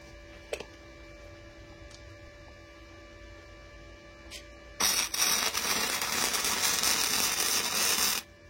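Parkside PIFDS 120 A1 flux-core inverter welder laying a bead on steel, a loud crackling, spitting hiss that starts abruptly after a stretch of quiet hum and faint ticks and runs for about three seconds, then stops.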